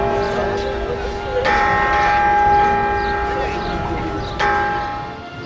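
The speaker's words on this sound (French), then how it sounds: "La cloche de la liberté fut forgée à Londres, en Angleterre, en 1751." The Liberty Bell, cast in London in 1751, rings with two distinct strikes whose sustained metallic overtones hum and linger over a steady background.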